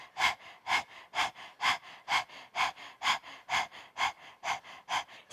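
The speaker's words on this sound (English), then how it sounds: "open your mouth, take your tongue out and start panting" Rapid open-mouthed panting with the tongue out during a yoga breathing exercise, a steady series of quick, even breaths at roughly three per second, close and clear with no talk.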